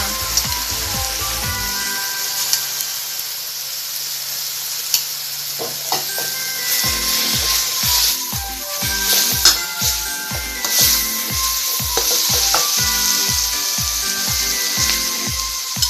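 Spinach stir-fried with soybean paste in a pan for a vegetarian dish sizzles loudly and steadily, with rhythmic scraping and stirring strokes repeating through the second half and no talking.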